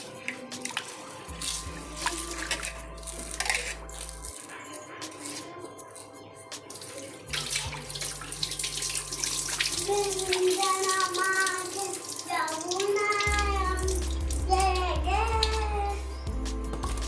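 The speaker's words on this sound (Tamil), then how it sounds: "அப்புறம் அப்படியே அந்த தண்ணியை ஊற்றி ஆட்டிக்கலாம்." Water is poured in for grinding a Tamil kunukku batter, a running, splashing flow that comes in several bursts over the clip, fairly close and moderately loud, with some low background hum.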